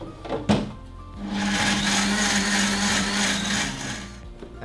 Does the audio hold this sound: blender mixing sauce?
yes